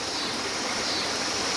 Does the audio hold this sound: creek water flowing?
yes